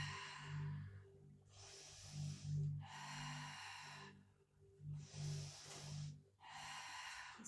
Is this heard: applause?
no